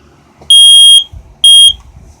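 Smoke alarms mounted on a demonstration board shriek in two loud, piercing beeps of about half a second each, separated by a short gap, with faint low background rumble between them.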